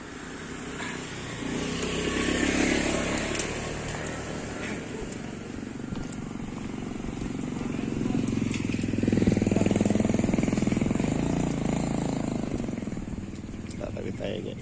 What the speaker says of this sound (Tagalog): kadalasan mga motor ang dumadaan dito